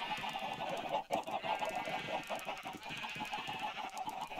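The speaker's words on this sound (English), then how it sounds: "What is it with these jumping chickens?" Chickens in a video game cluck continuously in a busy, overlapping flock chatter, faint and steady throughout with no voices.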